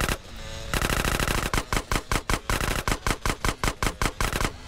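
Machine gun fire in GTA San Andreas comes as a continuous burst and then rapid, evenly spaced loud shots, close and dominant, with no talk.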